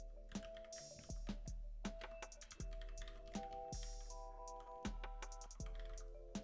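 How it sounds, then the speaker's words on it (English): Keys clack rapidly on a computer keyboard, with bursts of quick taps and heavier thumps, close and steady over a faint musical tone. "what it sounds like when I be typing."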